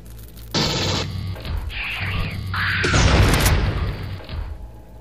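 Pulse rifle grenades burst in the Aliens vs Predator game, with several loud booms and crackling blasts in quick succession, swelling into a dense roar of explosions and debris before easing off.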